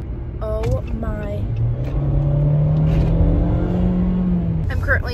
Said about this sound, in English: Currently driving to my hair appointment, obviously.